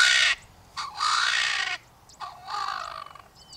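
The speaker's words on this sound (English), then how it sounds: "I managed to get two clips of him calling from his branch up there" A bird calls from a branch in African grassland. It gives three loud, harsh, drawn-out crow-like caws, close to the listener, with short pauses between them and no other sound.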